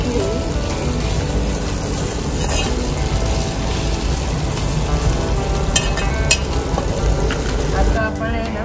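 Chicken lapeta being stirred in a pan over a wood-fired stove, with a dense, continuous sizzle and frying crackle and scraping stirs throughout, loud and close.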